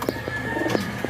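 Young racing pigeons squabble over territory in a loft, a few short low coos and wing or scuffle sounds scattered over a faint background hum.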